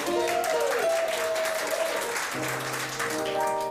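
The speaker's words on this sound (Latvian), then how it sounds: "Lūdzu ar aplausiem sveicam" Steady audience applause welcoming band musicians as they are introduced fills the clip at a constant level, with a musical tone and some voices mixed in beneath the clapping.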